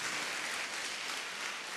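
An audience at a motivational class claps together in steady, even applause, fairly distant and soft, with no voices over it.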